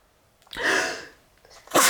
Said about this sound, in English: oh, I sneezed there